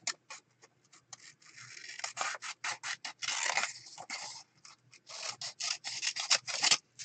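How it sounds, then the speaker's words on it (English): Scissors snip through paper for a steampunk junk journal in quick, irregular bursts of crisp cuts, close and fairly quiet, with short pauses between runs. "we'll cut this one out as well"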